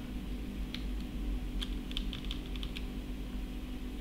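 Faint, scattered keystrokes on a computer keyboard, a handful of light clicks clustered in the middle of the stretch over a steady low background hum.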